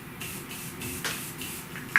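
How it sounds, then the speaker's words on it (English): Morphe X Jeffree Star Set and Refresh Mist in Starberry scent hisses from its nozzle in several short, soft spritzes, close by, over quiet room noise. "I'm just gonna spray it because I know this nozzle's a little tricky."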